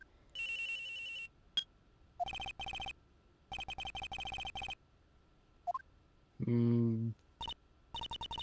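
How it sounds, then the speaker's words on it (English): Cell phone ringing in the Phoenix Wright: Trials and Tribulations video game, repeated bursts of electronic ringing tones separated by short pauses, with brief clicks and a low buzzing blip between rings. "At around 10:30, I received a call on my cell phone."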